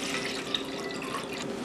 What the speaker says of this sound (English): Step one is to fill the empty bowl with refrigerated or ice cold water.